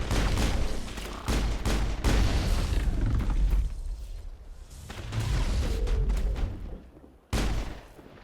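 Artillery crossfire from long-range turrets in the Mass Effect game, a dense run of booming blasts and rattling gunfire that cuts off abruptly twice before resuming, loud and close with no talking.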